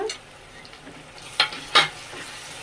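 Ginger garlic paste frying in hot oil, a soft close sizzle with two sharp scraping stirs of a spoon in the pan, no talk over it.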